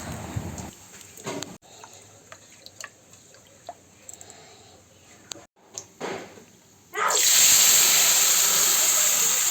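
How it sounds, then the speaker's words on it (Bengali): Nigella seeds, dried chillies and a bay leaf dropped into leftover fish-frying oil in a kadai: scattered small drips and pops at first, then a sudden loud, sustained hiss of sizzling that fills the remainder. "মাছ ভাজার তেলটার মধ্যেই আমি কালো জিরা শুকনো লঙ্কা আর তেজপাতা সম্বার দিলাম"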